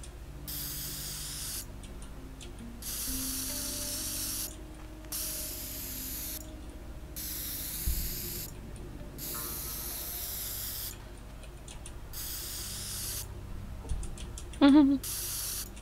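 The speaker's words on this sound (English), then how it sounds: "or the spray can." Spray can spraying in the video game Teardown, repeated bursts of loud hiss with short gaps between them, set over low game ambience and ending with a brief sharp mechanical sound.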